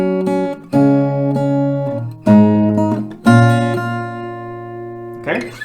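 Acoustic guitar playing the main part and second ending of a pop song, with sustained strummed chords changing every second or so, ringing clearly and close with no voice.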